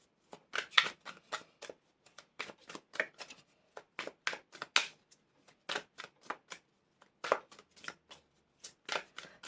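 Tarot and oracle cards being shuffled, soft rapid riffling bursts and slaps in an irregular rhythm, close and quiet with no talking.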